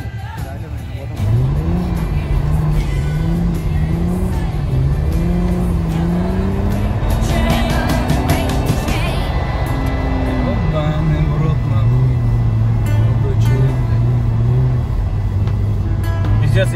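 Drift car at a winter DOSAAF Cup drift competition final, its engine revving and sweeping up and down continuously with tire noise, loud and close throughout, with voices talking over it.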